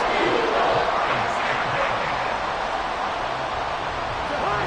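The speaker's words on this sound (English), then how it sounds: "The crowd getting into it as we come up on a big third down." A dense, continuous roar of a stadium crowd in a Madden football video game, building before a big third down, loud and steady throughout with no clear individual voices.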